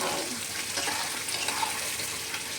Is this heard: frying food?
yes